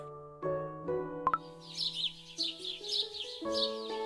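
Bright bird chirps and tweets from the video game Cookie Run: Kingdom flutter over soft sustained game music, several quick calls in a row, moderately loud and close.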